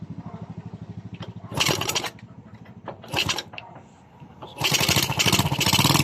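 A Yamaha Vega 115 motorcycle with an electrical fault cranks with a rapid chugging rhythm, then catches and revs loudly in rough bursts, close by.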